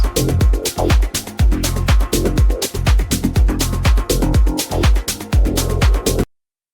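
A deep progressive synth preset: a deep, pulsing synth pattern with punchy bass hits repeating on a steady beat, loud and continuous before stopping abruptly.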